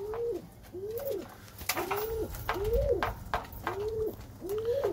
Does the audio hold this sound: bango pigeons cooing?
yes